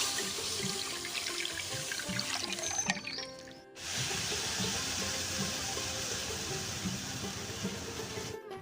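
Milk poured from a pot into a kadai for making chhena: a steady, continuous liquid pour with a brief break near the middle, then the flow resumes, close and fairly loud.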